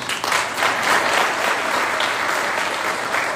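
Sustained audience applause at a medical class reunion ceremony, steady dense clapping from a crowd throughout, fairly loud with no pauses.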